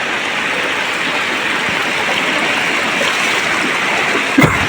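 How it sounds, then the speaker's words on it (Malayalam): Loud, constant rush of floodwater flowing like a swollen river through Kondotty town in Malappuram, Kerala, with a brief knock near the end. "ഇതിപ്പോൾ ഒരു പുഴയാണ് കുണ്ടോട്ടി കൂടെ ഒഴുകുന്ന പുഴയാണ്"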